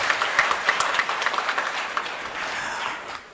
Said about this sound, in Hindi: तो आइए जोरदार तालियों से अभिनंदन करते हैं श्री